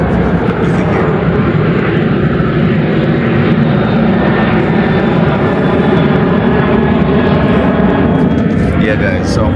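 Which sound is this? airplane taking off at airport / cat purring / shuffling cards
airplane taking off at airport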